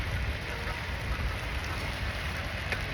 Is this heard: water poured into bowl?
no